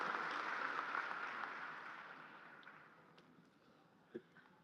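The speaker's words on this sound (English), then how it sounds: "Please join me in a big round of applause for our faculty." Round of applause for the faculty at a Miami University fall commencement in Millett Hall, a dense crowd clapping loudly at first, then slowly thinning and fading, with one sharp isolated clap near the end.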